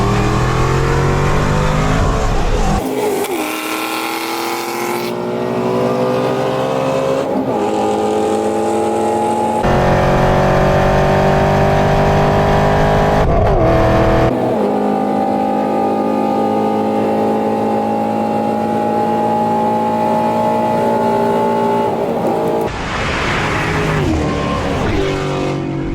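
Two high-powered muscle cars, a 650hp Camaro ZL1 and a 540hp Shelby GT350, accelerating hard side by side through the gears, with loud sustained engine roar and distinct gear-change breaks at intervals.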